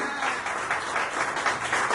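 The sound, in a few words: applause in church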